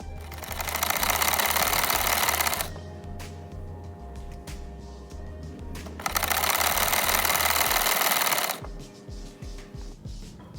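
A sewing machine runs in two loud continuous bursts while stitching a strip onto the front of a kurta, with quieter pauses of handling and clicks between them and no talking.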